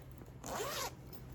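A zipper applied to a sewn baby nest is pulled once in a quick, soft rasp, close up and alone in a quiet room.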